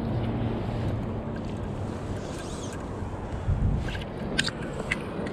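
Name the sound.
wind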